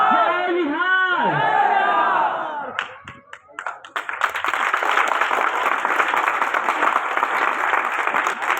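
A crowd at a political rally in Bihar, a sung chant in one voice giving way to loud, continuous clapping and cheering from many people.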